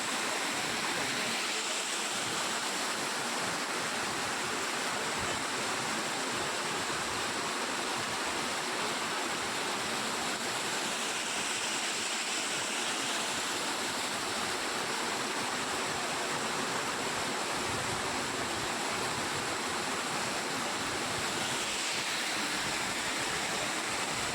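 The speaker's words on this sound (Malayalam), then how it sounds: "ചെറിയൊരു വെള്ളച്ചാട്ടം" Steady rushing water of a small waterfall in the monsoon, a continuous close hiss and splash that stays even throughout with no talking.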